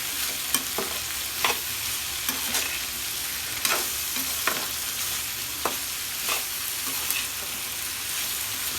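Okra and potato sizzle in oil in a wok, a constant frying hiss punctuated by regular scraping stirs of a spatula, close and alone without talk.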